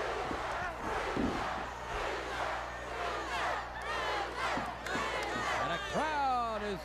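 A crowd roars and cheers throughout at a 1983 WCCW pro wrestling match in an arena, with dense overlapping shouts and whistles and a commentator talking over the noise.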